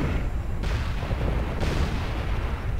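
Heavy weapon fire in the MechWarrior Living Legends battle, Chaos March marshes defense: a dense, continuous booming barrage with two sharper blasts, loud and sustained throughout.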